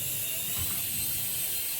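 A toy helicopter in flight gives a steady, faint whirring buzz that holds evenly for the whole moment, with no talk over it.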